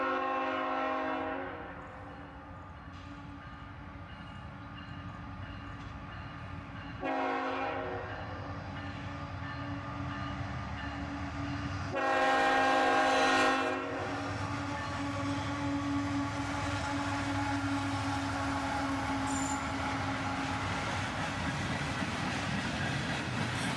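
Freight train passing, tail end made up of tank cars: steady rumbling and rail noise heard from trackside, with a horn sounding around the middle and a louder surge of clatter before settling into a continuing roll.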